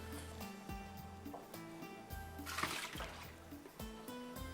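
Cut potatoes are tossed into a bowl of water in a kitchen while dry chili chicken is prepared, making a few light splashes and trickles, with one louder splash partway through.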